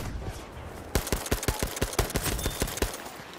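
Rapid gunfire rings out in a video game, with about fifteen sharp shots in quick bursts starting abruptly after a moment of quieter background. The shots are loud and close.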